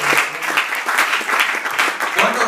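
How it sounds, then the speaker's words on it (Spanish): A church congregation claps in loud, close applause, the hand claps dense and fairly rhythmic with quick pulsing peaks throughout. "Denle un aplauso al Señor Jesús."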